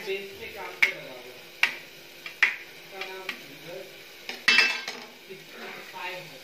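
A utensil stirs eggs in a metal cooking pot for egg biryani, with sharp clinks and scrapes recurring every second or so, near and moderately loud, under occasional talk.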